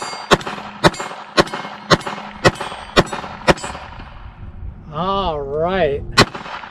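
Rifle fire with a red dot sight hits a big steel silhouette target: seven sharp, evenly spaced shots crack out over about four seconds, each with a ringing metallic clang, before a brief spoken interjection and one last shot.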